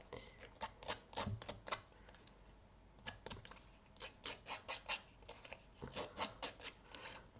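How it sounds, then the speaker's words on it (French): Small scissors scrape along the edges of a vintage paper tag, making short rasping snips and rubs in uneven bursts, close and quiet, with no talking. "je vais vieillir, hein, de chaque côté là comme ça, avec un petit ciseau"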